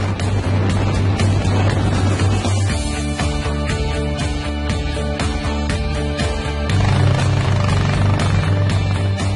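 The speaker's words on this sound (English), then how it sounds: "Driving through the streets of Talca on an Enduro bike is a privilege offered to the riders." Enduro motorcycles ride through the streets of Talca, Chile, at the start of a FIM Enduro World Championship round, their engines droning steadily and loud throughout, rising and falling in pitch as bikes pass close by.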